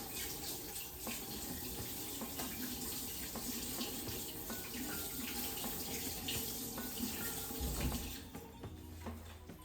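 Tap water runs steadily into a kitchen sink while hands are washed after handling raw salmon, a continuous close splashing rush with small clinks, ending with a brief low knock.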